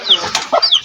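A hen on a small farm gives a short burst of close, loud clucks, two quick calls in under a second.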